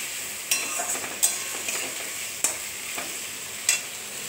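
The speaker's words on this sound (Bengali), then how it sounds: "এবার ভালো করে নাড়ব" Aamudi fish, eggplant and potato are stirred in a frying pan, a bright steady sizzle broken by four or five sharp spatula scrapes and clacks at irregular intervals, close-up with no voices.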